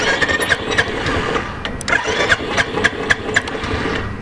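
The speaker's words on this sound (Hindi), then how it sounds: "एक बार मैं दोबारा से सेल्फ स्टार्ट दे देता हूँ।" A Bullet X 350 motorcycle with two years of rough use cranks on its self-starter, giving repeated whirring, squealing starter pulses with rough engine chuffs that fail to settle into a steady idle, loud and close.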